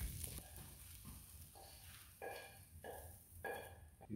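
Tomatoes sear lightly in a hot pan while making homemade beef burgers, with a soft, quiet sizzle broken by a few short stirring scrapes that recur every second or so.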